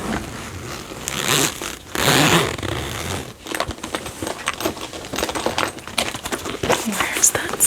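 A zipper on a makeup bag is worked close by, with a couple of loud zipping strokes followed by rapid small clicks and rattles of items being rummaged through.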